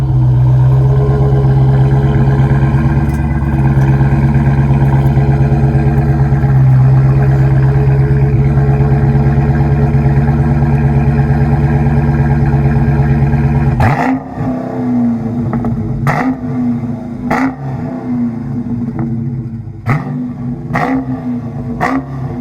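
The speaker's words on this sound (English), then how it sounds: "I'm gonna give y'all a cold start like I normally do real quick." A 2017 Dodge Challenger Scat Pack cold start: a loud, steady high-idle rumble holds close by for about fourteen seconds, then drops to a lower, choppier idle punctuated by several sharp blips or pops.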